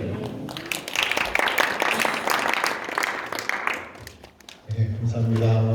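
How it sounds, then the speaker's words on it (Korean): An audience at a Korean church ordination training seminar claps warmly for the lecturer, with a sustained wash of applause that fades out toward the end before music begins. "우리 강사님께 다시 한번 뜨거운 박수 드리겠습니다"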